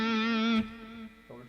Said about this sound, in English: Distortion only.